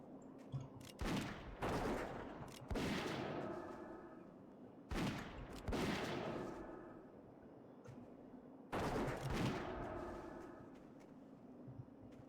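A World of Warcraft hunter fires auto shots in a hardcore game: a few loud, sharp bursts come several seconds apart, each trailing off in a short decaying rumble.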